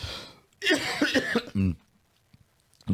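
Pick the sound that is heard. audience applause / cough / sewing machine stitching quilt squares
cough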